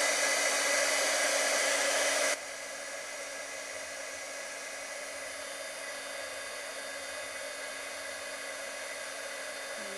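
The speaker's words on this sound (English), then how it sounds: "Okay, so I can put the heat gun away" A heat gun blows steadily over embossing powder on a craft card, a loud broadband whoosh that drops to a quieter steady hum after about two seconds and runs on alone.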